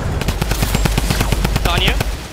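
Rapid machine-gun fire in a video game, a fast even stream of about twenty close, loud shots over two seconds, with a brief whooshing effect near the end.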